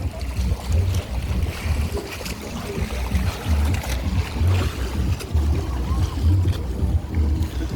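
A paraw outrigger sailboat glides across open water at Boracay, with steady wind buffeting the microphone and rhythmic low water slaps against the hull repeating every second or so.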